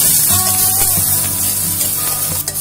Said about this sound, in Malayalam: ഇനി ഇതിലേക്ക് അരിഞ്ഞു വെച്ചിരിക്കുന്ന സവോള ഇട്ട് കൊടുക്കാം